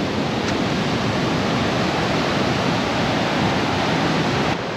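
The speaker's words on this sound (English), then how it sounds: "An impressive water flow right there" Water rushing through a wide-open dam, a steady, dense roar of broadband noise that stays loud and unbroken throughout, close by and with no voices.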